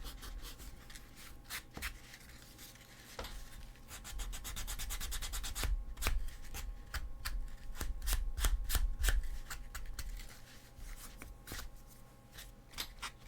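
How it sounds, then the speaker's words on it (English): A cosplay prop for a Sisters of Battle Artillery Witch build is sanded smooth by hand in steady, scratchy back-and-forth strokes, close and fairly quiet, with brief pauses between passes. "Have a little bit of the sanding, make it less rough."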